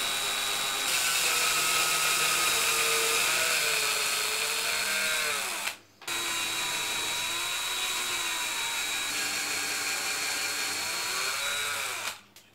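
A power drill bores through soft wood while guided into an existing pilot hole, giving a steady, loud whine for about six seconds, a brief stop, then a second equally long run, close up with no talking.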